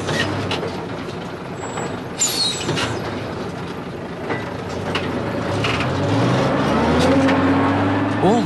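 Old trucks grind along bad, rough roads at night, a low engine rumble and rattling rising to a louder drone toward the end, with a voice speaking over it.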